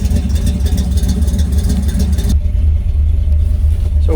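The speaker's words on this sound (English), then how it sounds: "Camshaft's got a nice little rumble to it." A 1955 Ford F-100 hot rod idles with a steady, loud, lumpy camshaft rumble, a deep engine note close by and continuous throughout with no talk.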